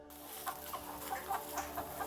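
Chickens of three breeds clucking on a farm, faint and somewhat distant, with short repeated clucks rising over a low steady background hum.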